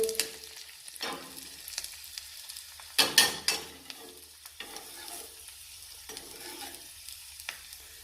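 Banana stem being stirred in hot oil: a few scattered scraping strokes, one louder burst in the middle, over a low, steady sizzle with no talking.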